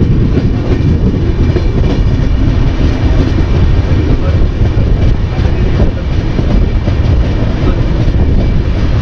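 Express sleeper train (19414 Kolkata–Ahmedabad) rolling out of Bardhaman station, a steady loud rumble of wheels and wagons with faint clickety-clack heard from inside a coach, continuous throughout.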